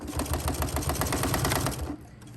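A Janome sewing machine stitches a vinyl boxy pouch, a fast, even, close mechanical chatter of needle strokes that runs steadily, then stops abruptly near the end.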